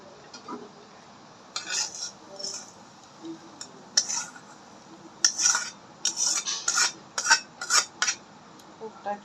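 A cooking pot is handled and lifted off a stove, giving a run of sharp metallic clinks and scrapes in irregular bursts that get busier toward the end, close by over a quiet background.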